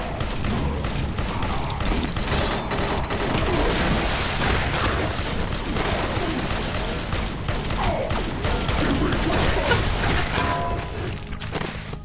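Enemies open fire in Doom with the Project Brutality mod, a dense, continuous barrage of gunfire and booming impacts that stays loud for the whole stretch without letting up.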